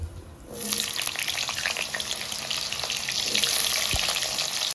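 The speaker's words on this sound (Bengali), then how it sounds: "আলুটাকে আমি লাল করে ভেজে নিলাম" Steady, loud sizzling and crackling of food frying in hot oil, with occasional clinks of a utensil stirring the pan.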